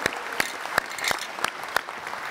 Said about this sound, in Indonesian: Kita kasih tepuk tangan dong luar biasa.